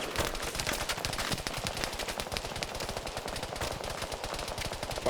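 Rapid machine gun fire in a competitive video game match, dense continuous bursts of shots filling the whole stretch, loud and close.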